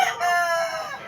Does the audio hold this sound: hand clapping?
no